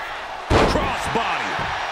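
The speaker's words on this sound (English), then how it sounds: "Opening the ambulance doors." Ambulance doors are thrown open during a wrestling match, Ruby versus Ivy Nile. One sharp, heavy slam lands early, followed by a lingering metallic rumble under ongoing commentary.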